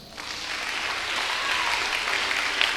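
A church congregation breaks into applause during a prayer service, clapping rising quickly and holding steady, dense and fairly close, with a faint voice underneath.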